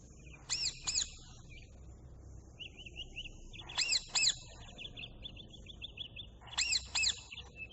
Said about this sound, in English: And what is the sound of parrot?